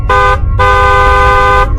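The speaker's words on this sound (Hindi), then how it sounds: "तभी वहाँ पर बस की हॉर्न की आवाज आती है।" A bus horn honks twice, loud and close: a short blast followed by a longer sustained one with a bright, harmonic tone over low rumble.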